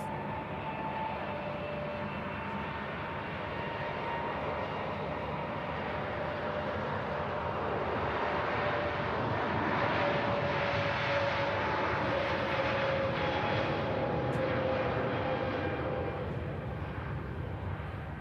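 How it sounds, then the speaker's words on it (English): A Lufthansa Airbus A320neo departs for Munich from Manchester Airport, its jet engines making a sustained, rising roar that swells toward the middle and holds steady, heard from a distance without voices. "Off to Munich, the A320neo with Lufthansa"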